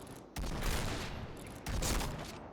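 Rapid gunfire from the online shooter Point Blank, dense bursts of rifle shots filling the clip in two loud waves, close and continuous with no speech.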